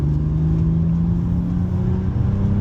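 A 2018 BMW M2 inline-six drones steadily from inside the cabin while driving, a loud, even engine hum with a stable low tone and no talk.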